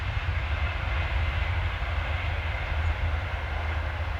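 A train rumbles past on a nearby railway line, a steady low continuous roar heard from a moored canal boat, with no one speaking.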